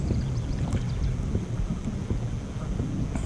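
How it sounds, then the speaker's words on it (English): Strong wind gusting over a rough, whitecapping lake during kayak bass fishing, a loud continuous low rumble and buffeting against the microphone with no pauses. "trying to find places like this to try to get out of that main channel wind, because lordy, it's rough"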